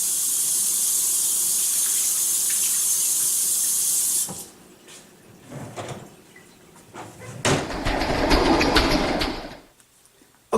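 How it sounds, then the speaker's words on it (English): Tap water runs steadily into a sink while hands are washed, then stops, followed by faint clatter and a second, louder burst of running water near the end. "let me wash my hands"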